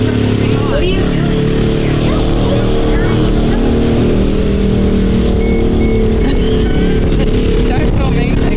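Motocross dirt bike engine warming up at a race weekend practice, a loud continuous rumbling engine with revving and a busy track background, with people talking over it nearby.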